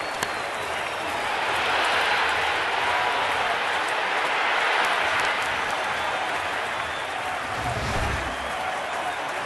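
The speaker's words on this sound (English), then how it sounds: "this is the first time the crowd has had a chance to erupt" A packed Yankee Stadium crowd erupts in a sustained roar during a 2012 ALDS Game 3 playoff game, with loud cheering and clapping swelling and holding steady before easing slightly near the end.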